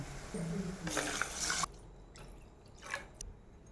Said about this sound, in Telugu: మనం మ్యాగీకి సరిపడా వాటర్ని అయితే వేసేసుకోవాలి